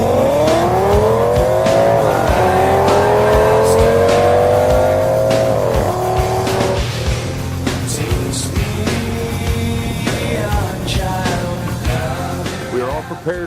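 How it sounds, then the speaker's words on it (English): Race cars including a Chevy Chevelle and a Ford Mustang roar around a road course, engines loud and close with rising revs, gear changes and a brief tire squeal, a continuous dense racing din throughout. "Get ready for some rough and ready road course racing."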